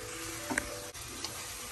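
Peach mango pie filling being stirred with a cinnamon, nutmeg, sugar and salt mix, giving a steady close rustling, sizzle-like texture with a few brief soft clicks, no voices.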